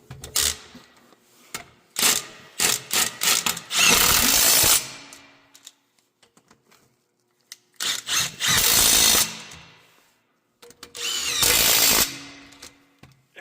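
A power tool tightens fender bracket bolts in repeated bursts: short stuttering pulses followed by sustained loud whirring runs, separated by quiet pauses, close and alone without talk.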